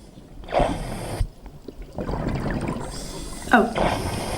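An underwater scuba diver's BCD inflates and vents in bursts of bubbling, gurgling hiss, close by, separated by brief quiet gaps amid muffled water noise.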